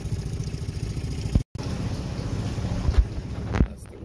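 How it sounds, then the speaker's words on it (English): A 25 horsepower Yamaha 4-stroke outboard motor driving a jon boat on a river, a steady close droning hum with wind rushing past, briefly cutting out for a moment. "this very dependable so far 25 horsepower Yamaha 4-stroke outboard motor"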